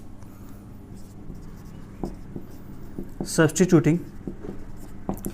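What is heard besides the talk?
writing on a board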